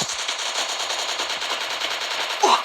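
Rapid automatic gunfire from a Garena online shooter game, a steady dense rattle of shots running throughout with a brief louder burst near the end, with no talking.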